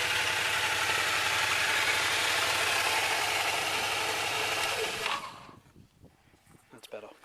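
An Aprilia Mana motorcycle engine idles with a steady, close rumble and slight rattle for about five seconds, then cuts off abruptly, leaving quiet background noise.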